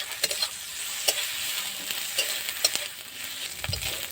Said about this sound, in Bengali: এবার দিয়ে দেব আদা রসুন বাটা। আদা রসুনটা একটু ভেজে নেব।